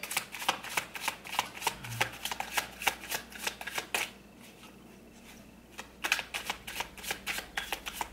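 Tarot cards being shuffled by hand, a dense run of quick riffling flicks that pauses briefly midway and then resumes, close and crisp with no talking.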